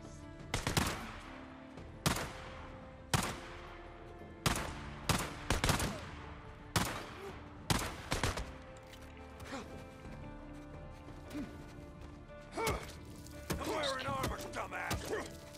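Gunfire in the video game Days Gone: a string of loud, sharp single shots spaced about a second apart, then a denser burst near the end, with someone talking in between.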